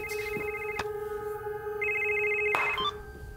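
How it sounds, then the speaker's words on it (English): A telephone rings in a house with a steady electronic tone, two clicks sounding over the ring and a higher tone joining partway through, fairly loud and close with no voices. "Let's answer the phone."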